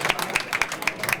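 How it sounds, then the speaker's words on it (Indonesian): Applause for political party leaders at a Jakarta regional election registration event in 2007, heard as a brief, moderate burst of scattered claps with sharp individual hits, no voices over it. "Tepuk tangan untuk para pimpinan partai politik."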